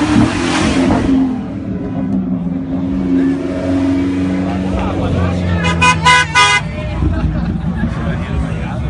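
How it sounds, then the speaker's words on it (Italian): At a Cars and Coffee meet in Brescia, a Ferrari pulls out with its engine revving among loud crowd chatter. A horn toots near the end and the scene is busy and close. "Ferrari che esce."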